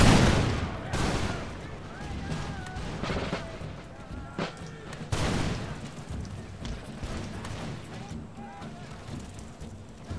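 Musket volleys crackle in the Empire Total War video game, with two ragged fusillade bursts of overlapping shots over a battlefield rumble. Scattered single shots and faint voices come through between the volleys.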